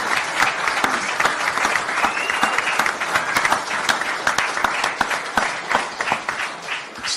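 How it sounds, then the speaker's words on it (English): Room of press and spectators at a post-fight boxing press conference applauding, continuous crowded clapping with sharp individual claps standing out, fairly close and steady throughout. "a round of applause for an unbelievable performance"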